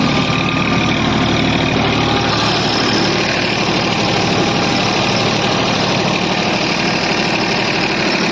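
Massey Ferguson tractor engine running steadily with a rotavator attached in a sugarcane field, a loud, continuous close-up drone with a slight change in tone after a couple of seconds.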